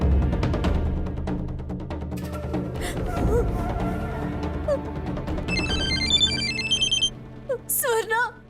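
A phone rings with a repeating electronic ringtone in a Telugu TV serial scene, heard beneath a dramatic music score and loud, anxious voices, with brief bright tones standing out near the end.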